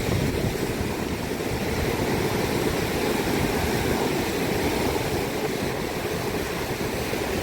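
Big ocean waves break at the sea shore, producing a constant, full roaring wash that stays even in loudness for several seconds, heard close with no voices.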